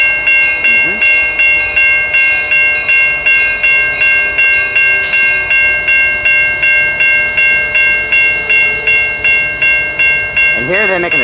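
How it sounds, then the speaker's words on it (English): Amtrak 76 passenger train pulling out of Cary station, a steady chime-like tone and rhythmic pulsing rolling throughout, with a rising horn-like swell near the end. "And here they're making their station stop as filmed on departing."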